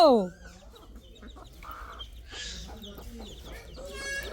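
Chickens in a village yard cluck in short, uneven bursts close by. A brief squawk opens the clip, and the clucking continues at a moderate level.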